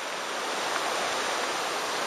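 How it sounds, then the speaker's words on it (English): A rushing mountain stream in the Sierra Nevada flows over granite, giving a steady, dense roar of water that fills the scene without pause or voices. "It's probably noisy there with the rushing water."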